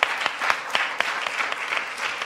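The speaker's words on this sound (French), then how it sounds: "Allez, on les applaudit bien fort." A festival crowd at a startup pitch competition final gives loud, dense applause. The clapping is brisk and continuous, with sharper claps punctuating it throughout.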